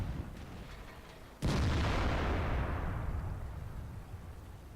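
The FV304 British tier 6 self-propelled artillery in World of Tanks fires a single sudden loud blast, followed by a long rumbling roll that slowly fades over several seconds.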